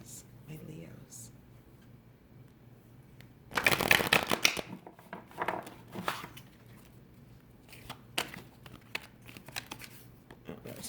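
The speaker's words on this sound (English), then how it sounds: "Bring these cards out here so you can see them." Tarot cards are shuffled and laid out by hand in quick bursts of riffling and soft slaps, loudest midway, with quieter card handling before and after.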